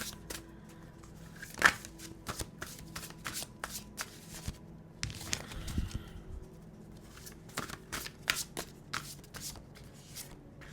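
Large spirit animal oracle cards being shuffled by hand, a close, soft run of riffling and flicking card sounds with irregular slaps and taps, fairly quiet and alone.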